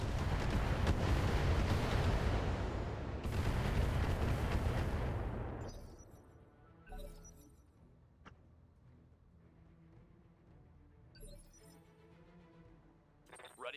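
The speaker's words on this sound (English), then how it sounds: "Well, for now, we just keep going with the bombardment." Sustained roaring missile bombardment in the BattleTech mech video game, several seconds of dense rumbling explosions that cut off abruptly, followed by quieter interface beeps and mechanical sounds.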